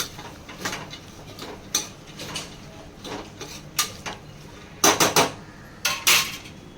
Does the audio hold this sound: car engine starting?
no